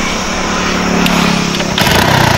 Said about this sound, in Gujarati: આજ બાઇક ચાલુ કરીએ આપણે